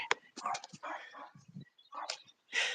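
A dog gives several short barks and yips in quick bursts, fairly faint and with gaps between, with some background voices mixed in.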